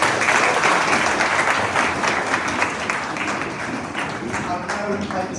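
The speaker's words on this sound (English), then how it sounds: "A massive round of applause again for all." Wedding guests give a sustained round of applause, dense and loud clapping that fades slightly over its length, with some voices mixed into the crowd.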